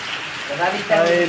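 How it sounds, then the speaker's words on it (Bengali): Steady rain hisses across a surface, a dense wash of drops filling the short stretch while a voice speaks over it. "চলছে বৃষ্টি,"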